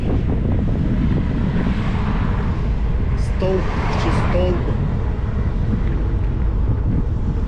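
Steady wind buffets a microphone outdoors while cycling through city streets, a constant low rumble throughout, with someone speaking briefly over it.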